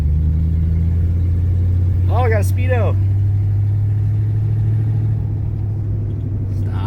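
1965 Pontiac Catalina Safari Wagon engine while driving, a low steady rumble heard from inside the car, with someone speaking briefly over it.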